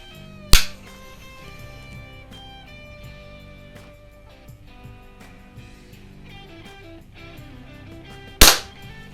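Two sharp, loud cracks from a Daisy model 717 .177 single-stroke pneumatic pellet pistol, about eight seconds apart, each standing out clearly over a steady background of music.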